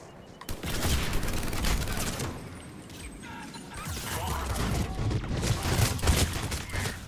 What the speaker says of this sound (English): Blow your heads off with my piranha.